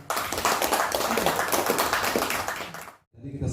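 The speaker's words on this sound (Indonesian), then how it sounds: "boleh tepuk tangan." Audience clapping at an association gathering in Banten, a dense burst of handclaps lasting about three seconds before cutting off, with some chatter mixed in.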